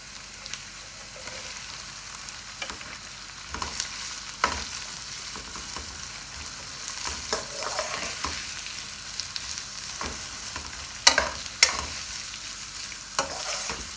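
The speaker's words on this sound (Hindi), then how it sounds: "अब हम उतनी देर भूनेंगे जितनी देर तक हमारे अनियन का कलर ना चेंज हो जाए" Onions sizzle in a karahi for chicken tikka karahi, a steady close frying hiss broken by frequent scraping stirs and occasional sharp metallic clinks of the spoon against the pan.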